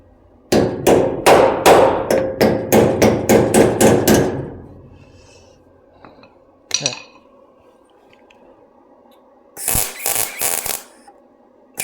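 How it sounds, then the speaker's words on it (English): Hammer blows on the sheet-metal body of a mid-engine Trans Am, about a dozen loud, ringing metallic strikes in a fast steady rhythm, then a lone knock and a later short burst of rattling clatter. "Here, let me get a hammer."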